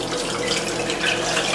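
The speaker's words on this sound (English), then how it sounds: "I'm going to pour this over the ice" Passion fruit lemonade poured over ice in a canteen, a steady loud splashing stream that runs unbroken throughout, with no voices.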